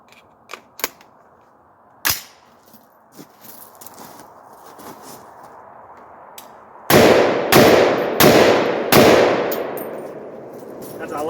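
AR-10 rifle with a 20-inch barrel fired outdoors at a mild steel target: four loud, sharp gunshots in quick succession near the end, each with a trailing echo, after scattered fainter clicks and shots.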